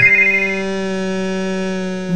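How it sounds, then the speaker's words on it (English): Loud ringer on the base of a Geemarc AmpliDECT 350 cordless phone for the hard of hearing, sounding one sustained, bright electronic ring tone that lasts about two seconds, close and clear. "The loud ringer on the bass is adjustable, as is the handset ringing volume."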